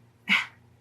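A dog gives one short, sharp bark close by, rising out of a quiet room with a low steady hum.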